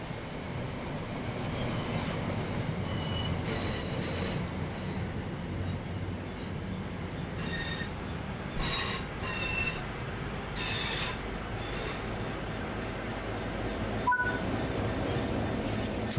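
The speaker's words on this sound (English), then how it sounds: "Now that you've moved down the track, it's time to bring the train to a stop." A passenger train in the video game Train Sim World 6 rolls steadily toward a stop, with a constant low rumble, intermittent high brake and wheel squeals, and a single sharp click near the end.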